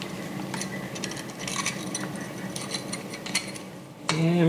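A torque wrench ratchets as bolts on a Yamaha engine top end are tightened: light metallic clicks and clinks in quick bursts, fairly close, ending with a louder clunk.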